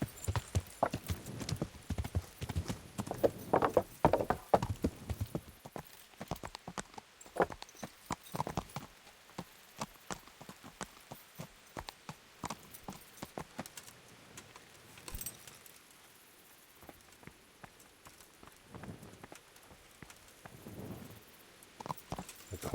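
Horse hooves in the video game Kingdom Come: Deliverance, with quick, close clip-clop footfalls that come in uneven bursts and then slow to scattered steps, with no talking.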